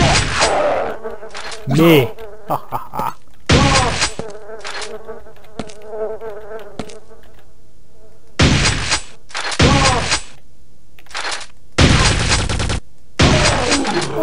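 Shotgun fire in the Quake 2 video game comes as loud, chunky blasts in separate bursts, with a thin electronic whine between them and one brief spoken word.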